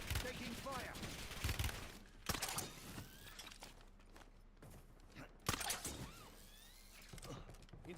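Gunfire in the video game Call of Duty Blackout, with sharp bursts of shots at intervals amid clattering and mechanical game sounds, under faint voices.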